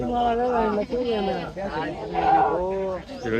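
Pregnant Osmanabadi goats bleat repeatedly and close by at a live goat market, their wavering calls overlapping one after another with hardly a pause.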